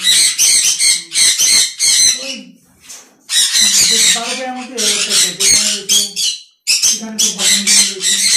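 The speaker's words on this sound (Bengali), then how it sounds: "এটা ইয়েলো সাইড কোনুর।" Yellow-sided conures squawking in a breeding setup, with loud, harsh, near calls that come in repeated bursts and overlap one another, and brief quieter pauses between them.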